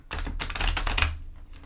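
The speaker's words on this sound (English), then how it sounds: "Let's see if I can do a bridge shuffle." A tarot card deck riffles through a bridge shuffle at close range: a quick flurry of crisp, clicking card flaps lasting about a second, alone with no talking.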